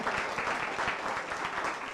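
Applause from an audience at a Tamil debate stage event, a brief burst of dense clapping at moderate volume, steady throughout.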